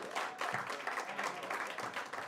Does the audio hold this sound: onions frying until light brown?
no